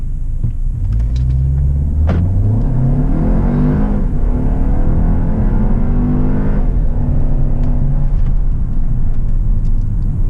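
A 2019 VW Arteon R-Line pulls away hard from a standstill, its engine droning and rising in pitch through the gears, heard loudly from inside the cabin as a dense, steady roar.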